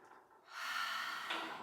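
A single breathy exhale during a Pilates chair pumping exercise, rising after a quiet start and holding as a steady, close airy rush for over a second.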